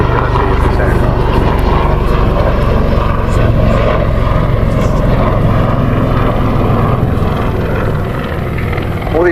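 Royal Navy Black Cats display aircraft fly at the Southport air show: a loud, continuous rotor and engine roar, heavy and pulsing, with wind buffeting. A commentator talks over it.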